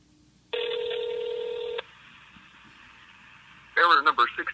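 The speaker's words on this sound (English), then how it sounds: "Let's make a phone call." Dial tone and ring on an iPhone 5c flashed to Boost Mobile, a steady electronic tone for over a second, then a quieter continuous ringback hum, before a voice begins speaking near the end.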